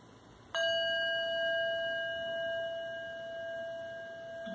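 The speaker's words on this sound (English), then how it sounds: "just listening to the sound of the bell." A single bell struck once to close a quiet stillness practice, a clear ring that lingers as a long, slowly fading tone in a silent room.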